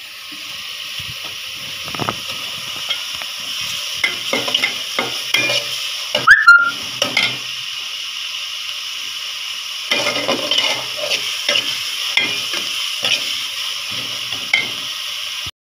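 Paste sizzles steadily in a pan while a utensil scrapes and stirs in irregular bursts, close and fairly loud, with no voices.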